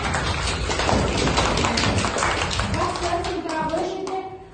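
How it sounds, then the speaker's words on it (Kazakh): Schoolchildren in a primary classroom clap their hands together in a dense, loud burst of overlapping claps that tapers off, with a teacher's voice speaking over the end. "қол шапалақтап қойып"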